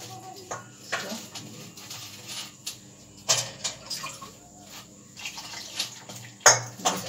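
Bread pakora batter is stirred with water in a bowl, giving irregular wet sloshing and scraping bursts with occasional clinks of a spoon against the dish, close by and moderately loud.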